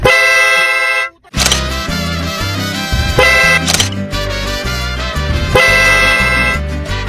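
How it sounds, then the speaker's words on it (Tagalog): A car horn mounted inside the car blares in long, sustained honks, briefly cutting out and then sounding again repeatedly, loud and close. "Ba't ganun busina ko na?"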